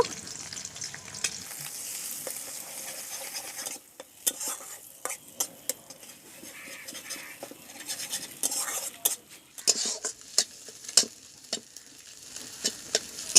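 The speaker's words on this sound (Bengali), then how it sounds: "ডিমটাকে এইভাবে ঝুড়ো করে ভেজে নিয়েছি" Scrambled egg frying in oil in a wok, with a spatula or spoon stirring and scraping the pan: steady close sizzle under sharp metallic clinks and scrapes that come faster toward the end.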